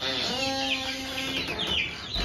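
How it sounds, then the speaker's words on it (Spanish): Young broiler chickens kept for meat, a dense chorus of high peeping and chirping from many birds close by, continuous and fairly loud, with no voices. "por los ruidos se puede notar que son los pollitos de engorde"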